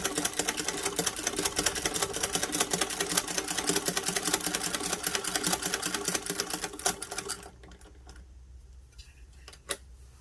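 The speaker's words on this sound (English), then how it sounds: "Keeping a steady, even speed will help you to have better stitches on this." Antique 1920s Stitchwell cast iron child's sewing machine stitching at a steady, even speed, a dense rapid mechanical clatter lasting about seven seconds before stopping abruptly, leaving faint clicks.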